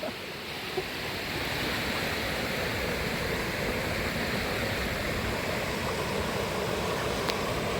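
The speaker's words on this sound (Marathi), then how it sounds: "पाऊस इकडं बघेल तेवढा पाऊस चालू झाला आहे" Monsoon rain falling steadily over flooded village ground and a metal sheet roof, a dense, even wash of noise lasting the whole time, with no talking.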